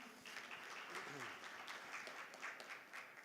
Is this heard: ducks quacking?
no